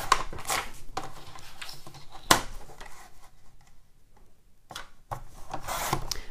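Scissors or a cutter slicing a paper sheet for an envelope in a card-making craft, close, dry rustling and scraping strokes in bursts with short pauses.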